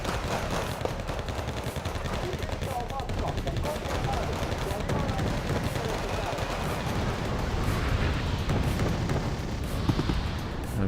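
Mortar and gunfire crackle constantly in Wargame Red Dragon, a dense wash of rapid shots and thumping impacts with scattered louder hits, under a voice talking over the battle.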